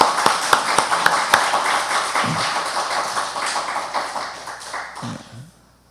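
Church congregation clapping to welcome a visitor, a loose round of hand claps with a few sharp individual claps up front, gradually thinning and fading out.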